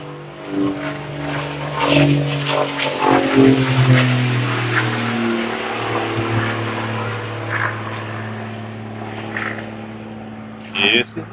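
A car engine with a loud exhaust revs and drones through the stretch, rising and falling with a deep rumbling tone, while a person talks over it.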